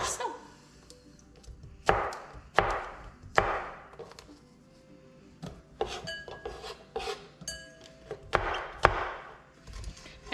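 A knife cuts repeatedly through unpeeled homegrown apples on a board, sharp crisp chops at an uneven rhythm with scraping between them, close by and without talk.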